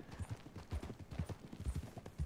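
A horse's hooves clip-clop steadily in the video game Red Dead Redemption 2 as the horse is ridden, a faint, rhythmic run of soft thuds with no talk over it.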